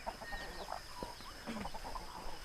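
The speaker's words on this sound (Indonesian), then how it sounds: "Ada ayam, oi." Chickens cluck softly in a rural Indonesian village yard, scattered short calls spread across the moment, faint and somewhat distant over a steady high insect whine and outdoor background.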